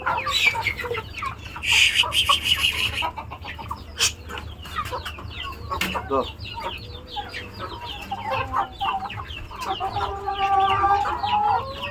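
Farm chickens, Tiger and native breeds, cluck and squawk busily while feeding on insects, with repeated near calls and scattered louder cries over a low background hum.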